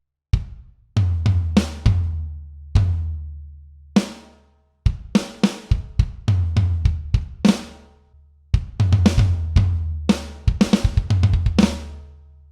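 Drum kit playing an end-of-verse fill: sharp, close hits with bursts of rapid strokes and ringing decays, groups of strikes separated by short gaps, no voices.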